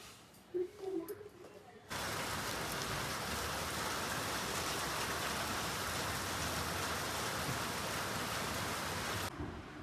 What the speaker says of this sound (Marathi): बघू शकता मॅडम, पाऊस थांबलेला तर बरोबर नाही